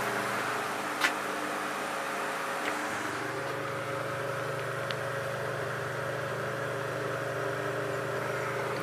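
An antique GE Vortalex fan motor running with a steady low hum and faint whir, a few small ticks and clicks over the even drone, quiet and close.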